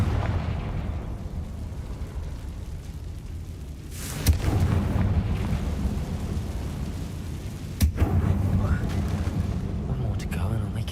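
A Confringo blasting spell cast in a Harry Potter wizard video game gives two sharp explosive bursts, each followed by a rumbling roll. They sit over a continuous low, storm-like background.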